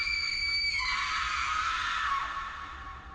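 A long, high-pitched scream echoes from the broken windows of a deserted palace at night, loud and sustained, rising and then tailing off a little toward the end, heard alone without any talk.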